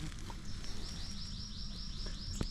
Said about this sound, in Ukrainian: О, пташка щось розказує.